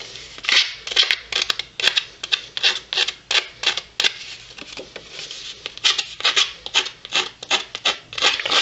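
A paper or cardboard edge is scraped and filed while decorating a flower album, in a steady run of loud, close rasping strokes, roughly two per second, with no voices.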